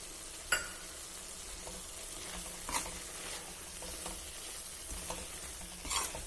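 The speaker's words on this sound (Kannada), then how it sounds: "ಇದಕ್ಕೆ ಕೊತ್ತಂಬರಿ ಹಾಕ್ಕೊಂಡು ಚೆನ್ನಾಗಿ ಮಿಕ್ಸ್ ಮಾಡ್ಕೊಳ್ಳೋಣ" Millet gojju being stirred with fresh coriander in a pan, a soft low sizzle under a few scraping spoon strokes and light clicks, quiet and close, without speech.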